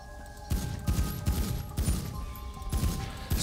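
Pistol fire in the video game GTA 5 during a zombie apocalypse scene at an abandoned airport: a rapid series of sharp, booming shots, about eight in a little over three seconds, close and loud.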